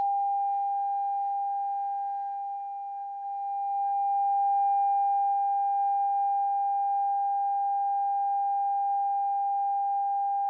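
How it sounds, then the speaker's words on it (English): A steady 800 Hz sine tone from a signal generator sounding through a tube, loud and continuous, with a brief dip in level before it swells back to an even hum with no one speaking. "I've set the sine wave generator to 800 hertz"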